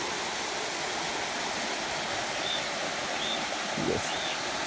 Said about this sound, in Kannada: ನೀರಿನ ಸದ್ದು ಕೇಳಲಿಕ್ಕೆ ತುಂಬ ಚೆನ್ನಾಗಿದೆ ಅಲ್ಲ